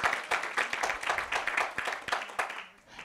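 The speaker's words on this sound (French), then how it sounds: "Merci beaucoup, on vous applaudit Léa." Applause from the audience at a patient forum round table on trust, a steady patter of many hands clapping at moderate distance for about three seconds, fading slightly toward the end.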